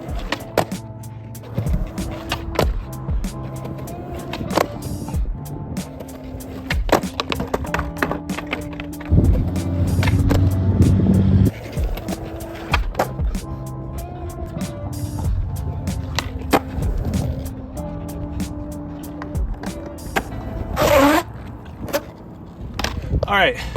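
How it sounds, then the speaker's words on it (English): A skateboard rolls and clacks in a skate park as the rider goes for an ollie onto a taller obstacle, with repeated sharp wheel and deck knocks, rolling rumble and bursts of louder impact noise. "Here's something a little taller to ollie onto."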